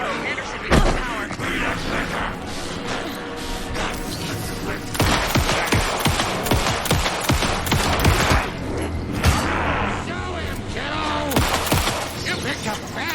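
Gunfire in the Alan Wake 2 video game, dense bursts of rapid shots and heavy impacts rolling on for many seconds, loud and close, mixed with voices calling out amid the shooting.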